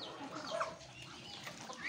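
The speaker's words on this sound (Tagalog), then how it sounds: "Ayun po yung mga manok kong Rhode Island." Rhode Island chickens cluck softly at a distance in a farmyard, with a few brief, faint calls over a low background hum.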